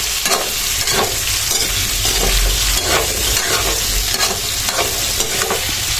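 Sautéed corned beef with potato stirred in a hot pan, a loud continuous sizzle with repeated scraping strokes of the spatula against the metal at a steady rhythm, close up and without talk.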